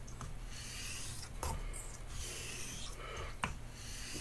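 Straight razor rubbed across a Chosera sharpening stone to set the bevel, giving a steady soft rasping scrape with a few sharper strokes, close and moderately quiet.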